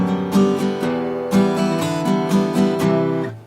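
An acoustic guitar in G plays a song's descending bass line, a short run of evenly spaced strummed chords with the low notes stepping down, clear and close with no voice.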